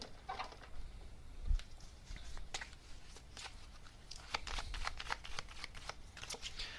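Tarot message cards being shuffled by hand give quick, crisp riffling bursts and soft slaps at irregular intervals, close and fairly quiet, with no talking.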